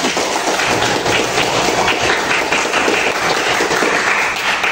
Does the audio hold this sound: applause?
yes